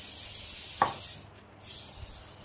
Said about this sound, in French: vous le beurrez. Moi, j'utilise de la bombe à graisse, ça va plus vite.